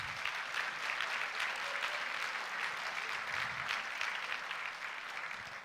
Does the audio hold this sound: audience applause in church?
yes